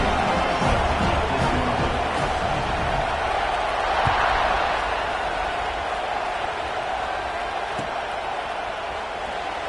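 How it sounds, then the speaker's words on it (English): A football stadium crowd at a Cal vs UCLA game buzzes with a steady, loud, dense roar. "this crowd is buzzing after that last score"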